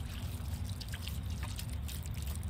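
Water pours from a small watering can in a steady, fairly quiet trickle with light dripping, close by and alone.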